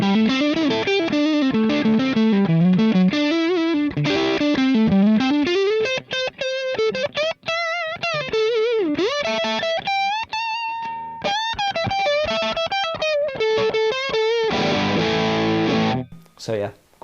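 A distorted electric guitar through a Joyo Jackman pedal, played on the neck pickup, plays a melodic run of sustained, bending notes with a warm, rounded tone, loud and upfront.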